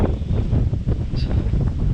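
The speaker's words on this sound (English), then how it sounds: "And yes, it's windy up here." Steady wind buffeting the microphone, a loud low rumble that fills the whole stretch without letup.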